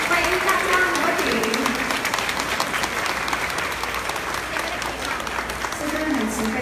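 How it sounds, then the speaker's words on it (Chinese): Loud, dense applause from a large temple audience at a Buddhist dharma assembly, steady and sustained for several seconds, with voices murmuring underneath. "请大家再次热烈的掌声，感谢师尊"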